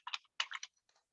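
Short burst of computer keyboard typing, two quick clusters of close, crisp key clicks with a brief pause between them, alone in a quiet room.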